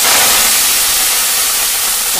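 Washed kharkol leaves dropped into hot oil in a wok burst into a loud, close, broadband sizzle that hisses continuously and eases only slightly over its short span.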